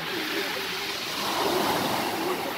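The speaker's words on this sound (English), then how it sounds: "And big wave has come again." Steady rushing surf on a stony beach with no sand, a swell of louder wash midway as a big wave breaks, water churning continuously over stones, fairly close and without any voices.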